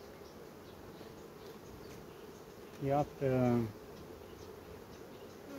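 A weak honeybee nucleus with only a few bees gives off a low, steady buzz throughout, briefly overlaid by someone speaking nearby.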